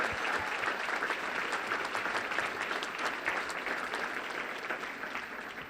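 Steady applause from a sizable crowd, continuous clapping that holds for several seconds and tapers slightly at the end.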